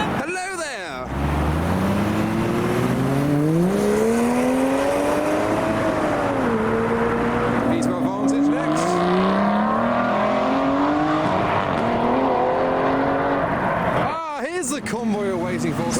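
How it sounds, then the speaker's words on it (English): A Fiat Barchetta, a rare left-hand-drive roadster, drives along the road with a loud, rising and falling engine note as it accelerates and shifts, heard close alongside steady road noise, with bursts of wind buffeting. "A Fiat Barchetta from out of nowhere."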